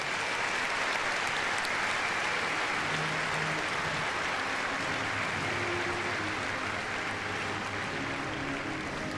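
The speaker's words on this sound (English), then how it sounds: "so you can give them all a nice round of applause" A large arena crowd at Crufts applauds the West Midlands Police dog display team with sustained, dense clapping that holds steady and loud throughout, with faint background tones beneath.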